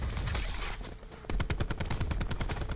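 Video game gunfire crackles in dense, rapid bursts, with a sniper exchange amid a continuous fusillade of sharp shots, loud and close throughout.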